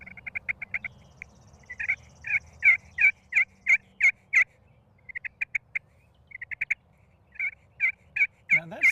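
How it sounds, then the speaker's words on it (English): A bamboo turkey call sounds a run of sharp yelps, some quick and clustered, others spaced in steady bursts, fairly loud and close with no talking. "Not many bamboo turkey calls on the market,"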